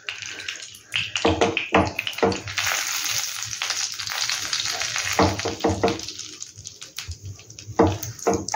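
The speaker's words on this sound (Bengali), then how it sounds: "বেসনটা দিয়ে দেবো ঘিয়ের মধ্যে, এবং এর কাঁচা গন্ধটা যতক্ষণ না যায় ততক্ষণ একটু এটাকে ভাজা ভাজা" Gram flour frying in ghee for pea kachori, a close, crackling sizzle with repeated scraping strokes of a spatula against the pan, no voices.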